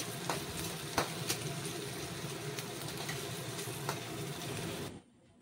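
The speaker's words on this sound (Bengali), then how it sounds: "পেঁয়াজ কুচিগুলি তেলের মধ্যে দিয়ে দিলাম। এবার ভালোভাবে নাড়াচাড়া করে নিলাম।" Chopped onions fry in oil with dried chilli and five-spice while being stirred, a steady close sizzle with occasional scraping clicks that stops abruptly just before the end.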